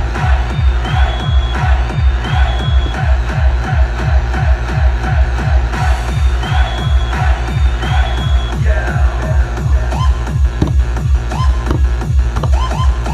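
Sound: changed crowd noise sample played from Midi Fighter Twister

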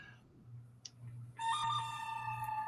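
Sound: phone ringtone

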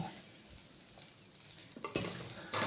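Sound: potatoes and green plantain frying in oil

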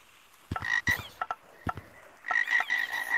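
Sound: frog croaking in a video game

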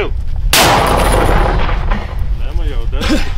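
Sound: mortar firing

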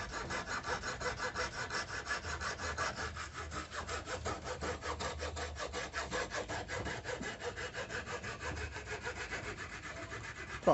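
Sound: multifunction hand saw cutting wood

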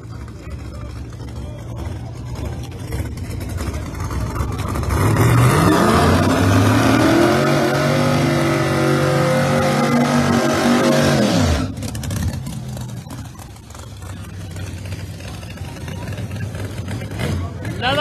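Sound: Mustang drag racing down the lane

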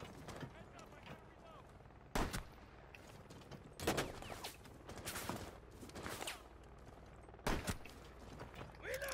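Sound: magnum pistol gunfire in Rainbow Six Siege video game

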